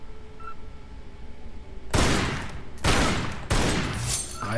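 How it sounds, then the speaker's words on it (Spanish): Three loud, sharp gunshot bursts from the game Tomb Raider Anniversary, each a sudden broadband blast that decays over a second, spaced roughly a second apart over a low ambient game hum, with no talking. "Vamos a disparar a ese."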